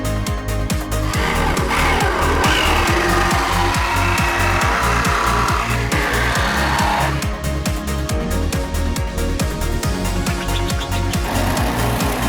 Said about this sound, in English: I'm using a jigsaw with a fine tooth blade. Cut it, gives it a really nice edge